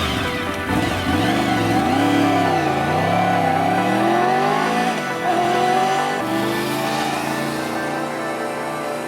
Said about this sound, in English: Growling engine note with a whining overtone from the gear-driven